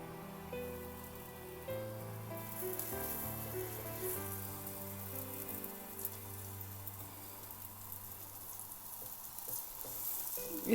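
Besan and mooli roti batter sizzles steadily on a pan greased with desi ghee, a soft continuous frying crackle under faint background hum, with no voices.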